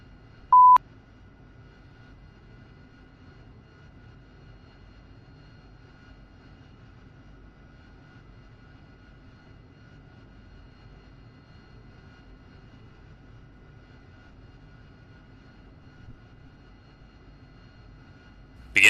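Steady low jet-engine rumble from an AV-8B Harrier taxiing slowly at a forward operating base in the DCS flight simulator, holding an even drone throughout, with a short beep at the start and another at the end.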